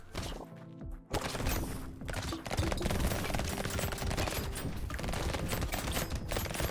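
Rapid, dense SMG fire in the video game Brotato, with a continuous stream of fast shots and impact sounds layered over game music, loud and busy.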